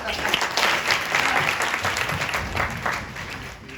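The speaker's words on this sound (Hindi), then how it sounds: "तालियां तालियां" An audience at a drama company's stage show at a festival applauds a guest leader, loud, uneven clapping with a voice calling over it.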